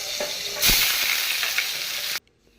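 Cumin seeds and dried red chillies sizzle loudly in hot oil in a kadai, a steady crackling fry with a louder burst as they hit the oil, then cutting off abruptly near the end.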